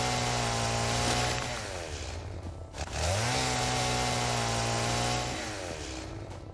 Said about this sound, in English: The nice thing about the chainsaw is it cuts everything in an area.